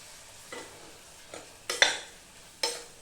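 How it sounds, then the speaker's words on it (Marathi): Masala bhaat ingredients frying in oil in a pan, with a soft steady sizzle broken by about four distinct scraping stirs of a spoon, close and clear with no talk. "हे चांगलं आपलं तेलामध्ये छानपैकी फ्राय झालं आहे."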